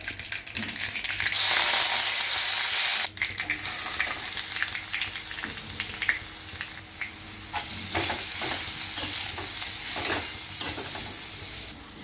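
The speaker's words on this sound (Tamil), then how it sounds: "இந்த பருப்பை உசுரிச்சு விடலாம்" Cooked lentils tossed and stirred in a little oil with mustard seeds, giving a steady loud sizzle with repeated scraping stir strokes and brief clatters throughout.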